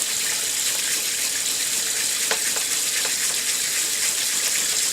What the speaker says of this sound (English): We're going to fill the sink up with some water.